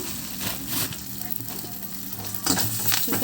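Curry leaves sizzle and crackle in hot oil over ajwain rice, a close, busy frying hiss with sharp pops and stirring scrapes throughout.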